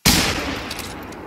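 A single loud rifle shot at a whitetail deer in the hunting video game The Hunter: Call of the Wild, sharp onset followed by a long rolling echo that fades out.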